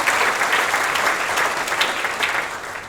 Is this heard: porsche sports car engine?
no